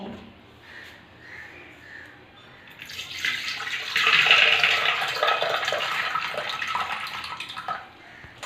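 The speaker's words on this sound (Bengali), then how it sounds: "রাজমা জল সমেত প্রেসার কুকারে দিয়ে সেদ্ধ করে নেব।" Water is poured with kidney beans into a pressure cooker, starting as a faint trickle and then becoming a steady, louder splashing pour that tapers off at the end.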